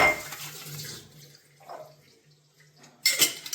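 Filtered reverse osmosis water runs into a container for rinsing, a splashing pour that eases into quiet dribbles and drips before a louder gush of running water returns at the end.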